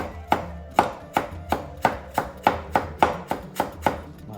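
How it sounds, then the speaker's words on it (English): A knife chops parsley, stems and all, on a chopping board in about a dozen crisp, evenly paced knocks close to the listener, with no talking. "I'm gonna chop it in half. We're using stems and all."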